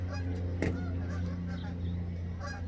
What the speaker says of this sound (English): Now Canada geese are going to ruin my video.